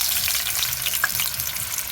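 Bammies, Jamaican cassava flatbreads, frying in hot cooking oil in a pot over medium heat, giving a steady close crackling sizzle throughout with no voices.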